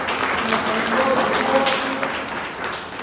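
Audience applause at a community event in India, a dense burst of clapping that runs steadily for a few seconds with some voices mixed in.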